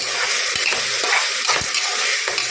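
Carrots and peas sauté in a hot pan for white kurma, a bright continuous sizzle with soft scraping stirs underneath, close and fairly loud.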